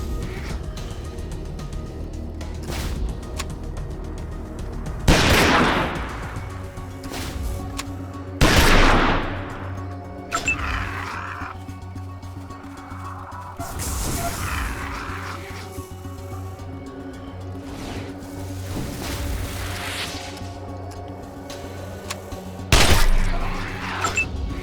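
Gunfire in the post-apocalyptic game Wasteland 2: Director's Cut, with several separate sharp shots and short bursts spaced seconds apart over a steady background hum.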